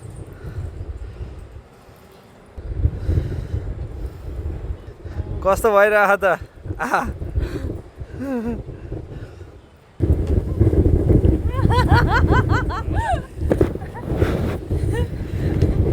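Gusty wind buffeting a microphone outdoors among hills in Nepal during cold, rainy weather, rumbling low and uneven, with people talking over it at times.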